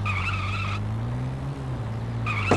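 A vehicle in the video game Defiance slides on its handbrake, a steady engine drone with a rising skid tone swelling underneath, high tyre squeal at the start and end, heard alone at close range.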